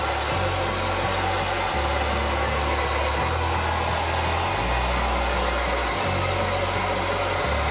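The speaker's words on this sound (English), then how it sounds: "I will blow dry it to see what color it actually is" A hair dryer blows with a steady, loud whoosh, its low hum shifting pitch every second or two as the setting or angle changes, with no talking.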